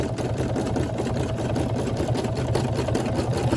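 Brother SE1900 embroidery machine running steadily while stitching an applique on a puppy's bag, a dense close-up motor hum with quick repetitive needle chatter, unbroken and without voices.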